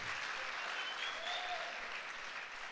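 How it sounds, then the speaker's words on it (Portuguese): A church congregation applauds steadily and loudly throughout, a dense wash of clapping with no pauses. "pode dar um aplauso a Jesus"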